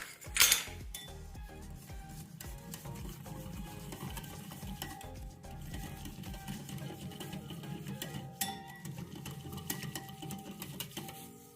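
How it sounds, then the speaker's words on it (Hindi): Gram flour (besan) is stirred into a batter with water in a kitchen vessel, with a steady, continuous rhythmic scraping and sloshing that runs the whole length without talk. "और इसको करना है अच्छे से मिक्स।"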